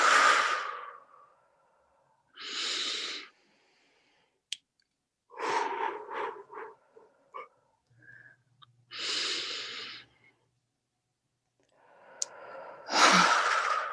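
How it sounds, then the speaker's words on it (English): Three deep breaths, each a slow inhale followed by a long, audible exhaling sigh, close and clear with quiet gaps between them. "let's all take 3 deep grounding breaths"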